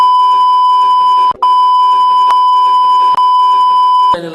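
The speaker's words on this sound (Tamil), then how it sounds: "ஏப்பா எடிட்டர் இது கொஞ்சம் பீப் போட்டுக்குப்பா" A loud electronic censor beep added in editing sounds as a steady high tone, cut briefly twice with short clicks in between, over faint muffled speech.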